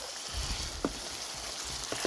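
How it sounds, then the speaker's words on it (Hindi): Spices mixed with ginger garlic paste frying for chicken biryani, a quiet steady sizzle with a few soft stirring clicks. "ये सभी मसाले हमने फ्राई किए हैं 5 मिनट तक"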